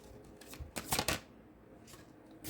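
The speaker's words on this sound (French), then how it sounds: "On me demande de tirer une dernière carte pour cette personne." Cards being drawn and shuffled from a deck, a few quick papery riffles and slides bunched in the middle, close and soft against a quiet room.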